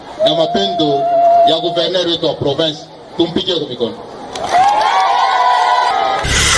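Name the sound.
crowd cheering for the governor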